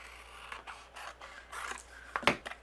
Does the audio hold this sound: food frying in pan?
no